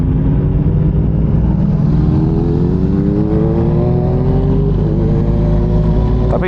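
Yamaha MT-09 motorcycle launching with traction control off, engine revving loud and close as its pitch climbs steadily through the gears over several seconds, ending with a brief higher burst.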